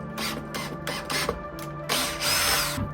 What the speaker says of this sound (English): I want to drill it with this, so that way it basically creates its own threads.